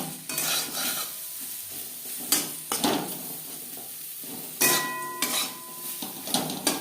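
Vegetables for dal frying and being stirred in a pan, with a steady sizzle broken by repeated clanks and scrapes of a metal spoon against the pan, close and fairly loud, with no talking.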